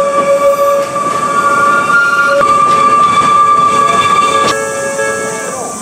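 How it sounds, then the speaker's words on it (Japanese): An Oigawa Railway train pulls into the station during a Thomas fair, with loud, sustained high-pitched wheel squeal and tonal screeching over a rolling rumble, close by and fading slightly at the end. "ほら、電車来た。"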